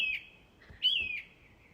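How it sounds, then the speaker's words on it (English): Two quick whistled bird calls, one just after the other, sounding close and clear against a quiet background, with no voices. "Look in, cooed the second."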